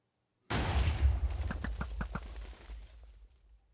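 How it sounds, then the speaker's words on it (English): A TNT launcher in a modded Minecraft game fires with a sudden loud boom, followed by a quick series of five sharp clicking pops as TNT spawns, then a fading rumble, heard alone without talking. "There's the TNT launcher, which I know is just a reused texture. You shoot it and it spawns a few TNT."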